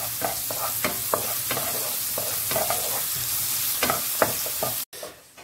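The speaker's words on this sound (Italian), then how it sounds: "Noi utilizziamo una bella cipollina rossa e facciamo rosolare" Red onion sautéing in a hot pan gives a steady, close sizzle broken by repeated scraping stirs, then cuts off abruptly near the end.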